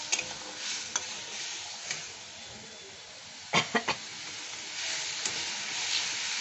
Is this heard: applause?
no